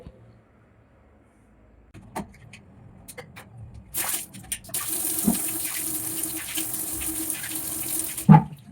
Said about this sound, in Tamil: தண்ணிங்கன்னு இதில் எடுத்து ஊற்றணுங்க